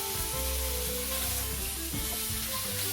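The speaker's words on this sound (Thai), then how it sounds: "ผัดต่อให้เต้าหู้เหลืองเลยนะครับ" Tofu and pork belly stir-fry in a pan with a dense, continuous close sizzle and light stirring movement, set over a steady low hum with faint tonal music; no voices.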